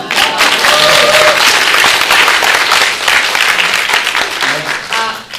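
An audience claps loudly and continuously, a dense close round of applause, with some voices mixed in toward the end.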